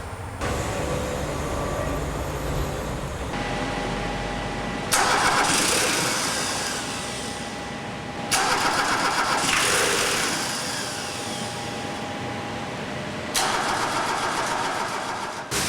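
A diesel truck engine cranks and fires in several separate start attempts, each a loud burst of churning noise. The bursts are spaced a few seconds apart, and a lower rumble carries on between them.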